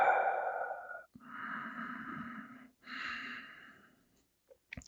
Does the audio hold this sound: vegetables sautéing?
no